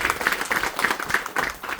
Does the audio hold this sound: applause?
yes